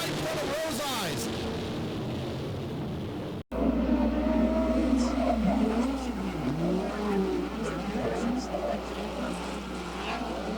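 Dirt track race cars battling for position at Watsonville, their engines whining and rising from mid-distance in a continuous drone over a low rumble, with an announcer talking throughout.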